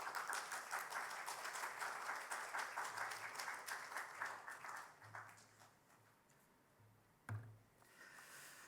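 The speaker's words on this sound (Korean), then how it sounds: "우리 큰 박수로 환영 부탁드리겠습니다." Faint, distant applause from a church congregation welcoming a seminar speaker, dense and steady at first, then thinning out to scattered claps before fading.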